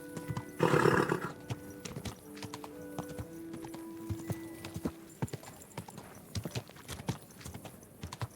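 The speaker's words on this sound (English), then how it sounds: "Let's get our horse." Horse hooves clip-clop steadily in Kingdom Come: Deliverance 2, with a loud burst near the start that sounds like a whinny, then rhythmic hoofbeats continuing at a moderate distance.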